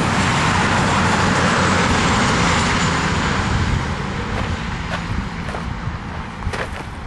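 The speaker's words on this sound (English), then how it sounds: "Goes that diesel again." A diesel locomotive at a railway centre rumbles loudly and steadily, a broad close engine roar that eases slightly toward the end with no talk over it.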